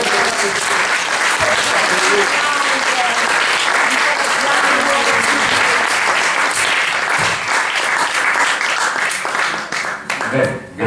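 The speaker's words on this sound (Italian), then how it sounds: "Facciamo un applauso." A bookshop audience at a book talk on the Resistance breaks into loud, sustained applause that rolls on evenly for about ten seconds before thinning out, with a little talk underneath.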